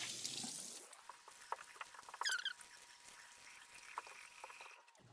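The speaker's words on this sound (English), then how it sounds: "Wash it off with warm water." Warm water runs and splashes softly at a bathroom sink as a face is rinsed during a skincare routine, a faint, close trickle with small patters and wet splashes.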